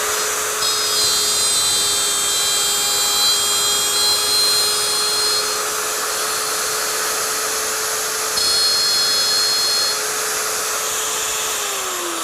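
A wood router runs at speed, making a high steady whine with a low hum beneath it, and its tone shifts slightly as it plunges and cuts a shallow groove. Near the end the motor spins down.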